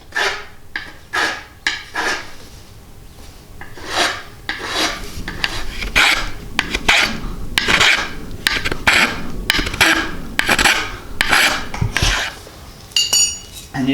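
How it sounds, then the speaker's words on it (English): A rasp files the polished section of a wooden axe handle in repeated close, loud scraping strokes, quick and uneven in rhythm, with brief gaps between passes and no talk. "you're going to take your rasp or your electric sander, and you're going to remove that polished section"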